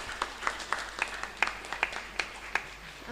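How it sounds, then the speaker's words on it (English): Sparse applause at an international health sciences seminar, a handful of distinct claps in an uneven rhythm from a small audience, fairly close. "Okay, give applause for this profile."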